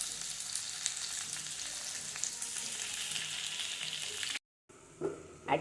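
Steady, close sizzling and crackling of vegetables frying in oil, broken by a brief silent gap and then a bit of stirring clatter.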